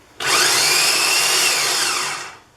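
A food processor whirs loudly in one steady burst of a couple of seconds, chopping vegetables for chili, then winds down.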